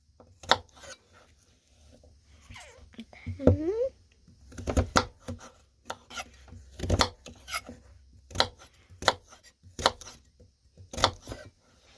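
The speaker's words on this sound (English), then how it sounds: "I'll be back when I'm done cutting and peeling all of these purple top turnips" A knife cuts and peels purple top turnips in a kitchen, giving sharp, irregular chopping taps and scraping strokes at close range, spaced out over several seconds.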